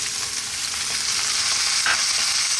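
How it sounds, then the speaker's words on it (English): Tomato sizzles steadily in a hot frying pan while cooking for beef burritos, a continuous bright crackle with a small flare near the end and no talking. "Now I'm going to drop in that tomato"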